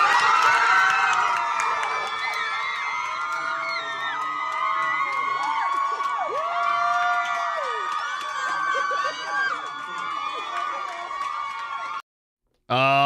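Crowd cheering and whooping in a council chamber right after the mayor casts a vote, excited voices and shouts overlapping, with a few people talking amid the noise before it cuts off abruptly near the end.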